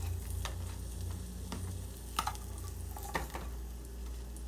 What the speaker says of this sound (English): mixing the potatoes and flipping the sausage